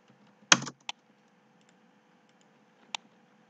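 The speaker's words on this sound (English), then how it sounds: "select all extra lines and press delete option from keyboard" Computer keyboard keys are pressed to delete lines in AutoCAD: one sharp cluster of clicks, a quick single tap, then one more isolated keystroke after a pause, all in a quiet room.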